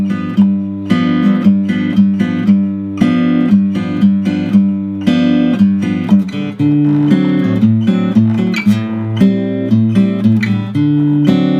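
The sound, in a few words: guitar playing second part of a song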